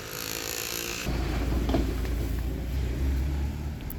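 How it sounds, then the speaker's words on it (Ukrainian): A car approaches on a rural road, its low engine rumble rising abruptly and then holding steady and fairly close, without any voices. "Вже машина їде"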